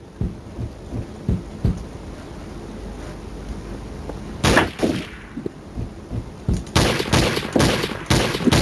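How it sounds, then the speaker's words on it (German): Bursts of gunfire in a Garry's Mod Trouble in Terrorist Town round, with scattered single shots early on and then louder, rapid volleys in the last few seconds, no speech. "Warum schießen die denn die ganze Zeit?"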